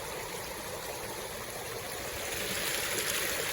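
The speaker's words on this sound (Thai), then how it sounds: "พาพี่น้องมาดูน้ำตกธรรมชาตินะครับวันนี้" Natural waterfall stream flowing in mountain forest, a steady broadband rush of water that swells slightly louder toward the end, with no talk.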